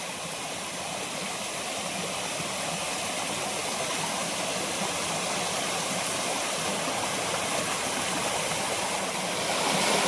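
A stream flows steadily at a crab trap, its water rushing with loud, continuous broadband noise that stays even and close throughout, with no voices.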